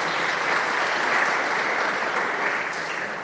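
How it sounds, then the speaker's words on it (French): A church congregation at Mass claps steadily, a dense, even wash of applause that continues throughout at moderate loudness with no voices over it. "Applaudissons pour la"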